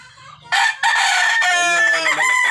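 A rooster crows loudly and close by, a drawn-out, raspy call after a brief soft cluck.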